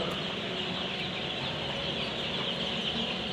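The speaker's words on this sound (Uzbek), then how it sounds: "Mana biza anjam qora jo'jalarimiz bir haftalik bo'ldi." One-week-old black chicks chirp in a dense, continuous chatter, a steady flock sound with no talking.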